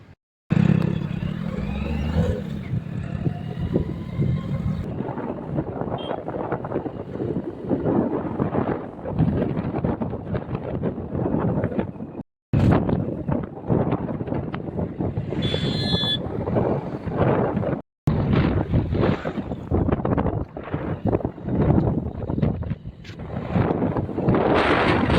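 A motorbike rides on the road from the Vadnagar petrol pump toward Kheralu in Gujarat. Loud, steady wind buffeting and engine roar run throughout, broken by two brief dropouts.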